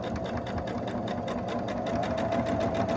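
Sewing machine running steadily while stitching a quarter-inch seam on fabric that sometimes feeds poorly, a close, continuous rapid mechanical whirr and tapping with an even rhythm and no pauses or voices.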